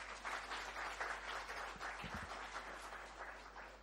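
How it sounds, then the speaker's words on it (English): An audience applauds at a national final-year project competition, a steady dense patter of clapping heard from within a hall, fairly faint under a constant low hum. "you deserve a round of applause on that"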